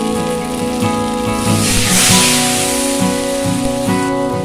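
Spices with chilli and turmeric powder sizzle and crackle in a hot pan, a steady hiss that swells briefly midway, with music playing over it throughout.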